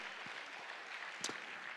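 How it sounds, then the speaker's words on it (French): Audience applause at a business patronage forum, heard as a faint, steady wash of clapping that holds evenly throughout. "On peut vous applaudir effectivement."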